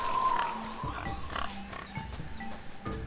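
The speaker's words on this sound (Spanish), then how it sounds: "Tengo que irme por donde suene el jabalí." A wild boar grunts and oinks in a jungle in Tales of Monkey Island, with several short, fairly faint snorts spread through steady background ambience.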